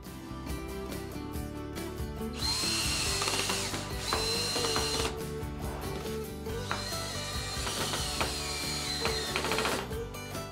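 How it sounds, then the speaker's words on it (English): A power driver sets screws to join wooden foot stool parts, with bursts of whirring and ratcheting mechanical sound and short pauses between runs, close and fairly loud, with no voices. "And we can go ahead and screw these together."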